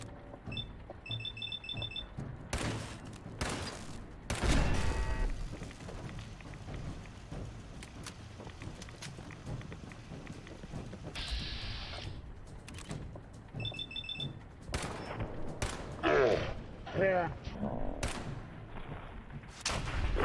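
Enemy rad guns firing in Fallout 4, a string of sharp gunshot bursts scattered through a noisy firefight, some loud and close, others lighter, mixed with game alarm-like tones and background effects.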